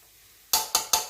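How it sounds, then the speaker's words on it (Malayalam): A cutlet mixture with turmeric powder being stirred in a bowl: three quick, close, loud scraping strokes in a fast rhythm after a quiet moment. "അതൊക്കെ നല്ല മിക്സ് ആക്കിക്കോണം"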